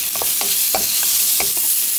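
Pickled cucumber stir-fries with salt and sesame seeds in a hot pan, a steady close sizzle broken by a few quick scraping stirs.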